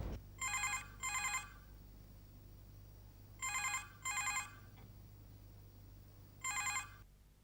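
A telephone rings in paired trilling bursts, three double rings spaced evenly apart, fairly clear against a quiet background hum.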